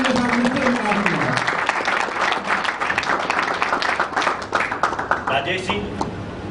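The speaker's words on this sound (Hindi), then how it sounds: "एक बार जोरदार तालियों के साथ मिस्टर विकास कुमार।" Audience applause at an indoor business etiquette training session greets Mr. Vikas Kumar, a dense steady clapping from a crowded room sustained throughout, fading slightly at the end.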